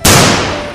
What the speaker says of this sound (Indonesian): Wow, tembakannya kencang-kencang sekali ya.